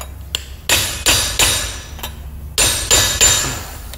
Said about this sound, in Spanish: Tenemos el yunque, tenemos la base para poder remachar y mira, vamos a remachar.